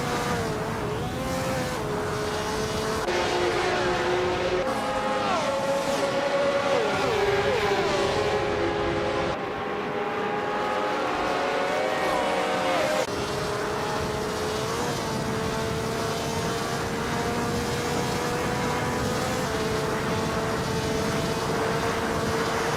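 Race cars overtaking in a racing video game, a steady roar of several engines with rising and falling whines as cars pass and shift gears, loud and continuous with no pauses.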